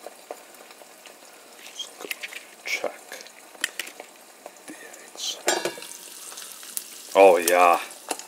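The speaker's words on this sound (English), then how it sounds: "That's how you cook the eggs on the stove." Eggs fry in a pan on a stovetop, crackling and sizzling in scattered bursts, with utensils clinking and scraping against the pan up close; a voice briefly intrudes near the end.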